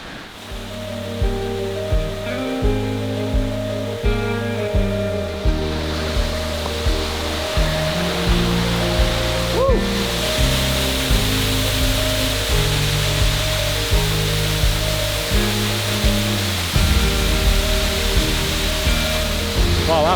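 A powerful waterfall in Austria roars continuously at close range, a dense, steady rushing wash with no pauses and no voices.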